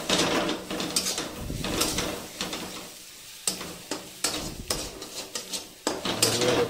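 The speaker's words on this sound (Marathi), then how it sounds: "थोडा वेळ 2-3 मिनिटं चांगलं परतून घेऊया त्याला" Egg bhurji is stirred and sautéed in a kadhai, giving a steady sizzle broken by irregular scraping and clattering of the spatula against the pan. The sound is close and moderately quiet.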